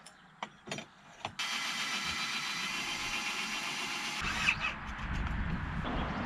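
A motorcycle fitted with a 3D-printed exhaust cold-starts after a few short cranking bursts, then settles into a steady, fairly loud idle that grows rougher and stronger near the end.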